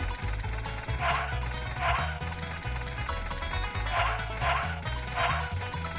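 Puppy barking in the UFOs video game, a run of repeated yips and bow-wows over a low, steady game soundtrack with no talk.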